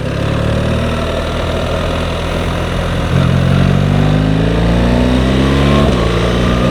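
A BMW R1300 GSA motorcycle engine coasting off throttle in sixth gear, then downshifting to second, with a steady close mechanical drone that rises and shifts pitch as revs climb after each downshift.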